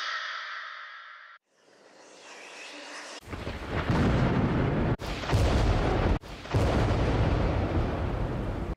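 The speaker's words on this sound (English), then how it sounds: "these more effect sounds of just thunder and lightning, screeches" A short breathy hiss gives way to deep, booming thunder cracks from a Halloween trap sample pack, rumbling loudly in several heavy bursts with brief gaps between them.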